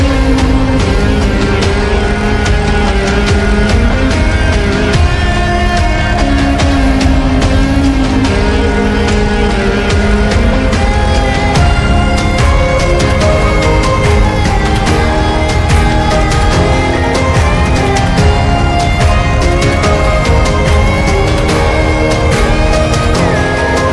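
Passenger launch Captain pulls away from Nazirpur launch ghat in the early morning, its engine a loud, steady, droning hum with strong tonal harmonics that holds unbroken throughout.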